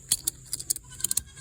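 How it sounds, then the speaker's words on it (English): Ratchet strap being cranked to tighten a wire fence, giving a series of sharp metallic clicks in uneven bursts, close and fairly quiet, with no talking. "so that it's tight, and then just give it a few ratchets"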